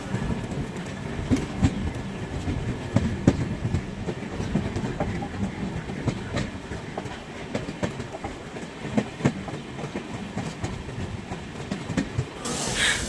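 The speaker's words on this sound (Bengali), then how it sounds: "পুরো ট্রেন বেরিয়ে পড়ছে ট্রেন এখন ধীরে ধীরে তার মেন লাইনে চলে যাচ্ছে" The Brahmaputra Mail express pulls slowly out of Jalpaiguri Road station toward the main line, a close rumbling roll with irregular wheel clacks and clunks throughout.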